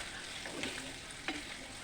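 Chicken pieces with ginger garlic paste frying in a pan as they are stirred, a steady soft sizzle broken by a couple of brief scraping stirs, close and moderately quiet.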